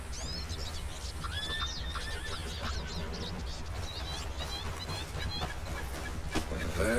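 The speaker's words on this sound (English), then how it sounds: "Look at my other horse." A horse in Red Dead Redemption 2 neighs repeatedly in high, wavering whinnies over a steady background of game music and ambient noise, with faint hoof clip-clops underneath.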